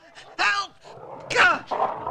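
A dog barks in several sharp, close yelps and barks amid a commotion, with agitated voices mixed in.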